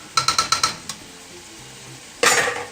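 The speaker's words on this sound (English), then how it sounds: "Now it'll be easier to stir everything up in our pot of raw veggies." A heavy metal spatula clanks five or six times in quick rhythm against a pot of raw vegetables for homemade chili, then a scraping stir and a louder clattering burst at the end.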